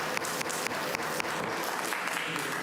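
Clapping from the audience at a city commission meeting, a quick run of scattered claps over a continuous background wash, moderately quiet and heard from across the room, with no speech.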